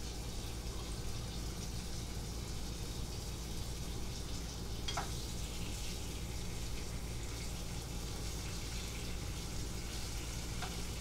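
Continuous crackling sizzle of conch fritters shallow-frying in oil in a pan, steady and close, with a couple of faint light clinks.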